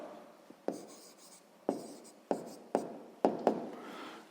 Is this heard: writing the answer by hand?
yes